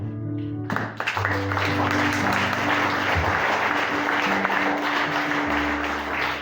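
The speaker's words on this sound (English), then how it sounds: "Give a mighty clap to the Lord." A congregation at a church service in a high school claps loudly and steadily, a dense wash of hand claps over sustained organ or keyboard chords.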